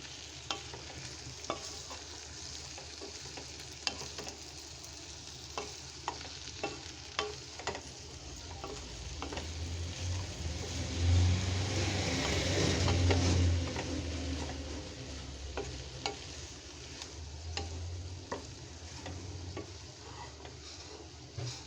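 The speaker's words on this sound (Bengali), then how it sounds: "এই যে হয়ে গেছে আমার করলা আলু দিয়ে চিংড়ি মাছ দিয়ে ভাজি" Bitter gourd, potatoes and prawns stir-frying in a pan, a continuous soft sizzle with regular ticking spatula scrapes throughout and a brief swell of louder frying midway, close and without talking.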